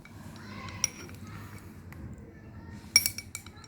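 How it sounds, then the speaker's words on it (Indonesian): A metal spoon clinks against a glass while stirring Dancow powdered milk mixed with hot water, with soft scraping and a few bright taps. The louder clinks cluster near the end. "Aduk dulu ya teman-teman."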